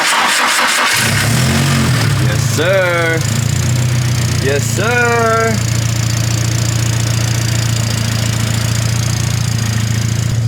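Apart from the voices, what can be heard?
turbocharged SR engine starting and idling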